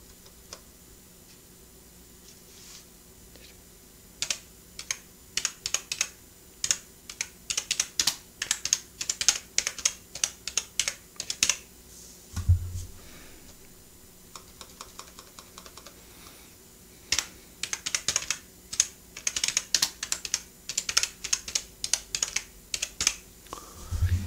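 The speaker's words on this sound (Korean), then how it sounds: "이게 저 타이핑을 해야 되니까 좀 기다려 주시기 바랍니다." Typing on a computer keyboard, close and clear, in irregular bursts of rapid key clicks with short pauses between them, over a quiet room hum with no talking.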